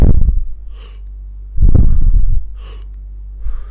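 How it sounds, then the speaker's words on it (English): Deep, slow breaths during a breathing exercise, heard close to the microphone: a heavy exhale at the start and another in the middle, with faint airy wisps between them over a steady low hum. "so you can actually hear me breathing."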